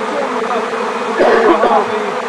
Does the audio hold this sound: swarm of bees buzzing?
yes